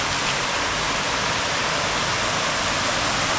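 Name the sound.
water flowing through Mughal garden channels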